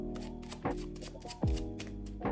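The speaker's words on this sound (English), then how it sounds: "We'll give the deck a couple of shuffles." Playing cards being shuffled by hand, a soft riffling rustle with a few sharp taps as the deck is squared, close and fairly quiet.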